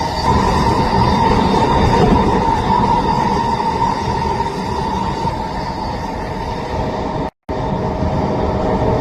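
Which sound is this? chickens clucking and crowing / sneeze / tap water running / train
train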